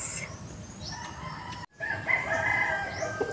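Chickens clucking and a rooster crowing in a farmyard, with a brief cut of silence midway before the birds carry on.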